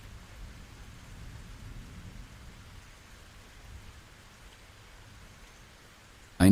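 Steady rain from a thunderstorm hisses softly throughout with a low rumble of thunder under it, and a sharp loud burst comes at the very end.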